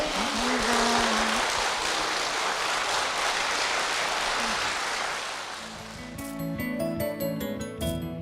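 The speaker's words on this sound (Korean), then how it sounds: "두 분께 힘찬 박수 부탁드리겠습니다" A church audience applauds in a broad, sustained wash of clapping that fades after several seconds as instrumental music comes in.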